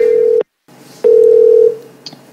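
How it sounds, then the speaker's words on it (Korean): Telephone connecting tone on a call placed to a food order customer, a steady low ringback tone in two bursts separated by a brief silence, loud and clear with no talk over it. "전화 연결해주세요."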